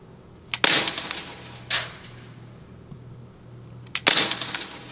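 A gun fired at a target outdoors, a few sharp cracks spread over several seconds, two louder shots and fainter pops between them, with no talking.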